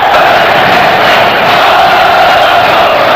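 Vasco da Gama football supporters celebrate in the packed Maracanã stadium in Rio de Janeiro, a loud continuous roar of massed voices and chanting filling the whole stretch without a break.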